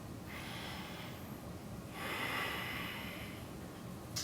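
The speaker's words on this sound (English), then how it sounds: "1 last deep breath." Deep, slow breath during a seated yoga twist in a power yoga class: a soft inhale swelling into a longer, louder airy exhale, close and alone with no talking.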